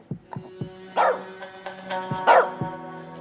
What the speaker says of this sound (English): Keep that dog quiet